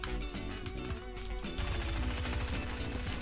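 Video-game gunfire in a Fortnite-style match sounds as a quick stream of sharp shots, close and loud, that grows denser in the second half, with no speech.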